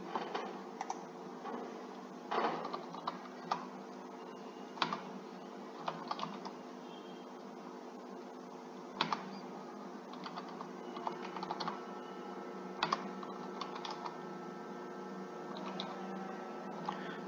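Typing on a computer keyboard while entering Hindi text in Windows 10: quick, close clusters of light key clicks in uneven bursts with short pauses, over a faint steady hum and no talking.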